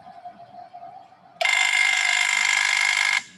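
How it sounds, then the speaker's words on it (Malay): A ticker tape timer's vibrator buzzes as a loud, steady electric drone for about two seconds, then cuts off sharply, with only faint background noise before it starts. "itu adalah bunyi untuk vibrator."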